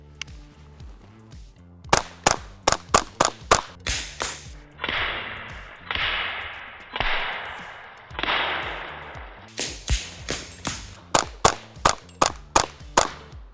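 A .22 LR MP5 firing a full magazine of tracer rounds at a bottle of gasoline: sharp cracking shots in fast bursts, a pause filled with hissing whooshes, then another rapid string of loud reports.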